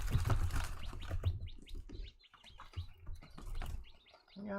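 Twenty-nine-day-old chicks cheep in quick, scattered bursts close by, mixed with soft rustling and low shuffling, with brief lulls between busier stretches.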